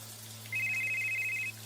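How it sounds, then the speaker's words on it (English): Cell phone rings with a short run of rapid, evenly pulsed electronic chirps over a low steady hum, moderately loud and close, then stops abruptly. "he heard his cell phone ring"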